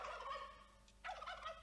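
A turkey gobbles in a commercial for an Australian air-freight delivery service, two short rattling gobble bursts heard alone and fairly faint, with a brief gap between them.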